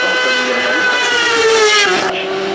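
A race car in the sport category at the 2019 Hébécrevon hill climb screams past close and loud, its high engine whine holding steady before dropping in pitch as it goes by.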